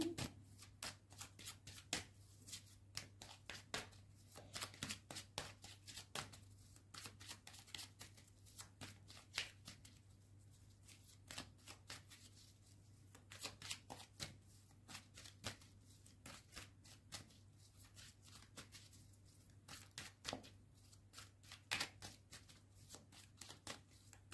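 A tarot deck being shuffled over and over for a reading, with crisp, rapid riffling and flicking card snaps repeating steadily and close up against a low constant hum.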